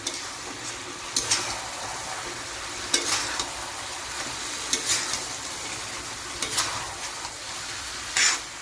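Chicken coated with ground cumin masala fries in a pan for a Bihari chicken curry, with a steady sizzle throughout and sharp scraping bursts as a spoon stirs it, roughly every second or two.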